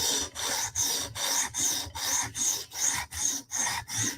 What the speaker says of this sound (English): I got a burr on most of the edge, it feels like. Yeah, we got a burr, so let's do another pass.